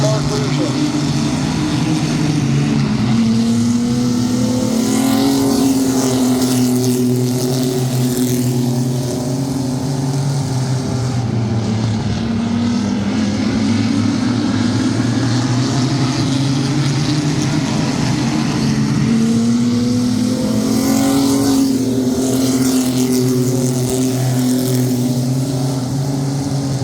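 Sport trucks racing in a feature event at Midvale Speedway, their engines droning and rising and falling continuously as they circle the track, with an announcer talking over the loud, steady roar.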